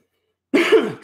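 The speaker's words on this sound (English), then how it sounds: "Excuse the cough." A single sharp cough after a moment of silence, close and loud, with a brief rough trailing sound.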